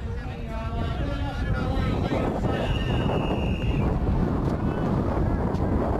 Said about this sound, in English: Wind, there are big gusts when they come.